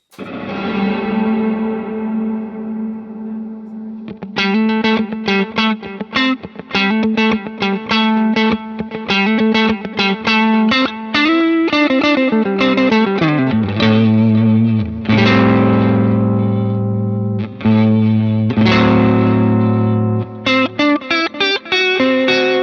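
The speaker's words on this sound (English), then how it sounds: "I've got it set up for a bubble vibrato" An electric guitar runs through an HX Stomp set for a bubble vibrato, playing a continuous run of plucked notes and chords with a warbling, wobbly pitch modulation that is loud, close and steady throughout, with no talking.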